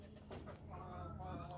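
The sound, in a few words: domestic pigeons cooing in cage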